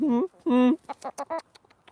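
A few short, rhythmic clucks from chickens close by, loud bursts followed by softer, choppier calls.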